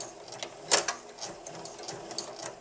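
A sewing machine runs in brief uneven bursts, back stitching over bias tape, with one sharper clatter early on, close and fairly quiet.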